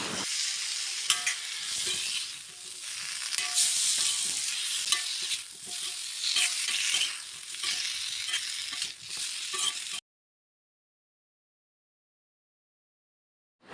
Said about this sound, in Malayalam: ഇനി നമുക്കിതിലോട്ട് നമ്മൾ മുരിങ്ങയ്ക്ക ഇട്ട് കൊടുത്തിട്ടുണ്ട് കേട്ടോ. എല്ലാം കൂടെ നന്നായിട്ടൊന്ന് കൂടെ ഒന്ന് വഴറ്റിയെടുക്കാം നമുക്ക്.